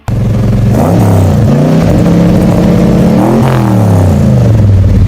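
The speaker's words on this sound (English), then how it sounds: "Imagine standing next to this beast, hearing the sound of all that power rumbling through its pipes." A 1970s muscle car's V8 revs loudly and close, its deep rumble rising and falling in two strong throttle blips over a steady idle.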